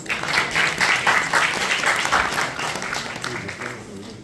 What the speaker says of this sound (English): Please can we have a round of applause for our speakers.